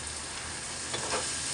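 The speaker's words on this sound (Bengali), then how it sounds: "ভালো করে আদা রসুনটা ভাজা নেব।" Ginger and garlic paste sizzling in hot oil in a pan while khichuri is being cooked, a steady close-up frying hiss with a couple of brief stirring swells.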